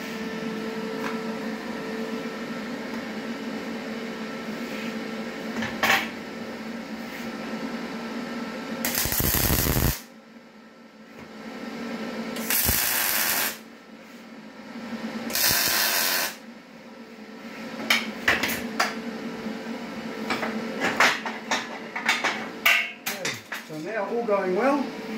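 Tack welding on the front end of a homemade mower racer, with three separate bursts of loud arc crackle and hiss, each lasting a second or two, set among workshop clatter and handling noise.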